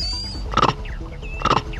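Two sharp, harsh barking calls of a vervet monkey sounding an eagle alarm, evenly spaced about a second apart over a steady outdoor background hum, moderately loud and somewhat distant.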